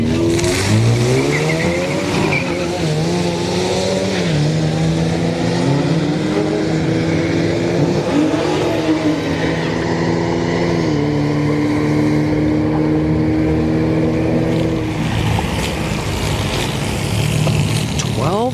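Street-night drag racing at Orlando Speed World, an Acura TSX A-Spec against a four-cylinder EcoBoost Mustang: loud engines rev and climb through gears in long rising sweeps, tires squeal, and a roaring wash of motor noise fills the whole stretch.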